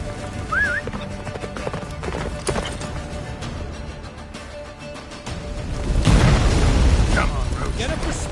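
Roach, the horse in The Witcher 3, gallops with a quick clip-clop of hooves and a brief whinny, while a low rumble swells near the end.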